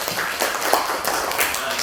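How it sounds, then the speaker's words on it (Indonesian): A classroom of students claps together after their group presentations, a steady crackling round of applause at moderate loudness, lasting throughout. "tepuk tangan dulu untuk kalian semua."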